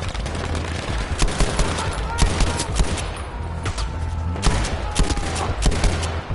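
Rapid gunfire bursts from the war video game War Story Tirailleur, loud repeated shots with sharp transients over a low rumbling background, dense and continuous across the clip.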